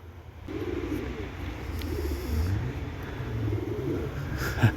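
A Turkish tumbler pigeon coos close by in repeated low, rolling phrases, with a soft outdoor background.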